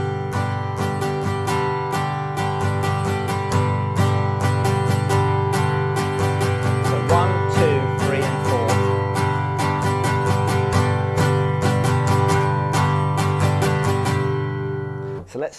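Acoustic guitar strummed in a steady down-down-down-up-down pattern on a single held chord, close and clear, with evenly repeating strokes ringing together and no voices over the playing.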